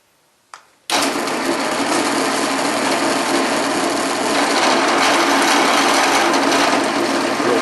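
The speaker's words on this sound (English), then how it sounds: "Drill 2 holes." A power drill cuts two holes in a rabbit treat cup: a brief click, then a loud, close, continuous whir that runs steadily for several seconds with no talking.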